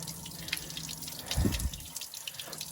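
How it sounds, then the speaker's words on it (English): Water runs steadily while a truck frame is being rinsed, a continuous hissing splash with brief louder spatters near the middle. "So far the water's running out pretty clear."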